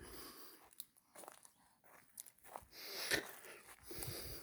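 Donkeys chewing and crunching on bread, with close, irregular biting and munching and a few sniffs and snorts between bites, outdoors at a flood-damaged roadside.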